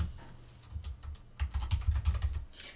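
Quiet, close keystrokes on a computer keyboard as a search is typed, starting sparse and then settling into a quick, steady run of clicks.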